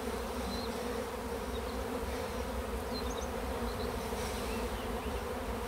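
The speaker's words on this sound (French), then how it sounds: "Les abeilles descendent." Honeybees from a swarm buzz in a dense, steady drone while descending into a small nucleus hive beneath a feeder, a continuous close hum with no talking.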